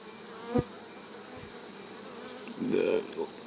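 Buckfast honey bees in a breeder hive during an open inspection, giving a faint, quiet buzz with a brief louder drone swelling near the end, no talking.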